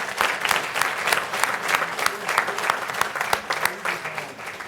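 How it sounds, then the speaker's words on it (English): Sustained crowd applause at a city council meeting honoring the Cumberland County Holiday Classic basketball champions, dense steady clapping throughout with no voices over it. "So let's give them a round of applause."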